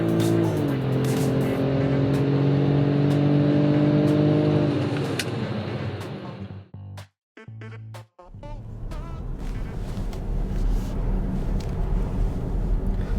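A 2024 BMW X5 xDrive50e plug-in hybrid accelerating hard from standstill to 100 km/h, a loud rising engine and drivetrain drone that holds steady for several seconds, cuts briefly, then resumes as a rougher cabin rumble.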